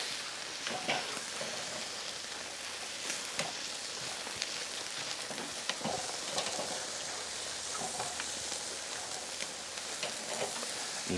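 Marinated ribeye steaks sizzle over an open fire, a steady bright crackling hiss with scattered pops and spits, close and continuous with no talk.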